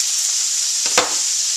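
Zucchini pieces frying in a pan on a stove, a steady close, bright sizzle with a brief stir or clatter partway through, no voices.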